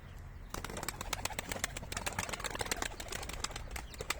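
Pigeons flap their wings in a loud burst close by, then keep fluttering and cooing in an outdoor loft in Kütahya, Turkey, with the rustling continuing throughout.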